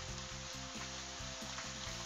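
Cooking oil sizzling steadily in a pan as jengkol goes in, a continuous hissing fry with a faint rhythmic pulsing, close and fairly quiet, no talk.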